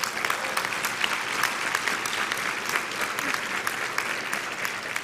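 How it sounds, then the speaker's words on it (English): Audience at a national Head Start conference breaking into sustained applause, an even wash of many hands clapping at a moderate distance. "Please give Vanessa a round of applause."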